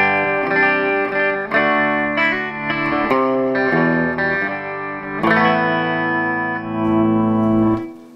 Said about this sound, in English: Nice Vox AC30 sound.